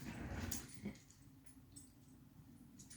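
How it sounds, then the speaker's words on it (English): A pet dog whimpers quietly indoors, a soft, faint whine near the start amid low background hum, with no talking over it. "My dog."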